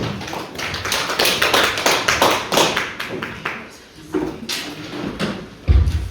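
Audience applause after a lecture, brisk clapping at first that thins out into scattered claps and a final few loud claps near the end.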